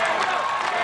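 A stadium crowd at a national finals obstacle course competition cheering and starting a chant for an athlete named Daniel, a dense, continuous roar of voices with no distinct gaps.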